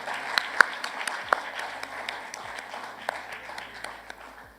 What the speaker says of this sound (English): Please clap for HSBC once again, everybody.